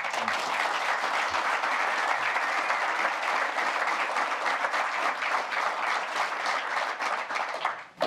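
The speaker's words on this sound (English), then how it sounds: "I think they deserve a round of applause, guys." An outdoor audience at a Nampo Harvest Day youth panel in Bothaville applauds the panelists, sustained crowd clapping that stays full for several seconds before trailing off at the end.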